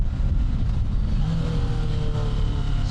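A Kawasaki Ninja 650 rides on the road, its engine humming loud and near with a shifting pitch that drops and climbs as it changes gears.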